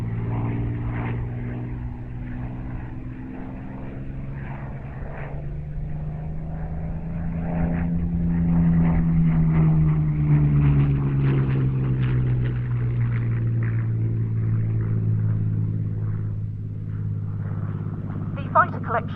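Curtiss P-40F Warhawk fighter with a Merlin engine, droning steadily throughout with a propeller hum that swells midway, heard alongside talk.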